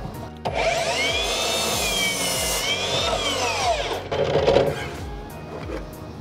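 A Hikoki C3610DRA cordless sliding miter saw spins up with a loud whine and cuts through wood, its pitch sweeping and dipping under load, then winds down to a quieter rattle close by.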